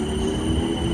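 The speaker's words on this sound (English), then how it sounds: "Train over there, don't know where it's going, don't know where it's from." A train rolls steadily through Clapham Junction station, a dense continuous rumble with a high wheel squeal running throughout, fairly close and with no voices.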